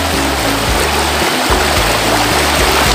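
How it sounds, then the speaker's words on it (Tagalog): Steady broadband rush of a river flowing, close and continuous, with a low rumbling undertone and no talk. "Nandito lang kami sa ilog."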